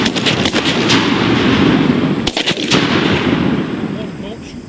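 Shotgun shots during early-season goose hunting in southern Michigan: several sharp, loud blasts in quick clusters, one pair near the start and another mid-clip, over steady outdoor wind noise.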